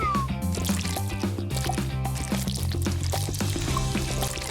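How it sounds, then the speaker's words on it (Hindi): Liquid dye pouring onto a rubber-banded tie-dye t-shirt, a soft continuous pour with dripping splashes, quiet and close, over a steady background of music. "अब डाई को इस पर डालेंगे।"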